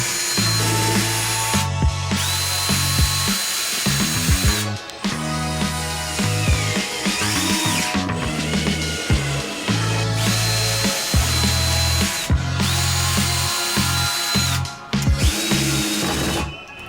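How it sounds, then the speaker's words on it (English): Power drill working into wood while building an RC rock crawling course on a back patio: repeated close, loud bursts of whining motor and bit grind, each a second or two long, separated by brief pauses. "We'll start by putting some holes in there, screwing that in"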